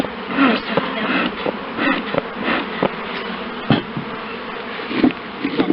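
Honey bees buzz in a steady, dense drone during a hive inspection with a smoker in use, punctuated by brief knocks and clicks from frames being handled close by.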